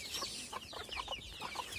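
Young chicks being fed by hand in a backyard coop peep and cluck in quick, bright bursts, several birds calling close by over a low rustle.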